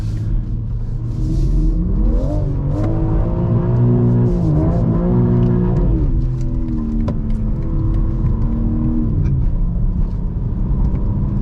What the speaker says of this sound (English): that wheel hop was terrible